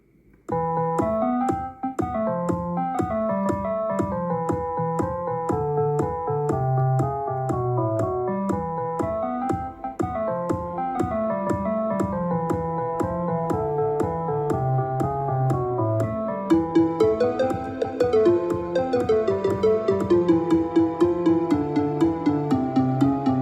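Layered percussion drives a busy electronic track, steady drum hits stacked over bass and melodic parts, with a brighter, denser section kicking in near the end.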